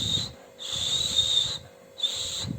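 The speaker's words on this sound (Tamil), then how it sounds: "இந்த விசிலில் நான் ஒரு தடவை ஊதி பார்க்குறேன்" A toy whistle is blown indoors in three shrill, steady blasts, the middle one longest, loud and close with short pauses between them.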